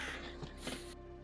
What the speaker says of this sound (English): Fucking crow noise.